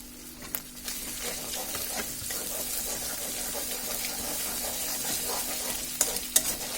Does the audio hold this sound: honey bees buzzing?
no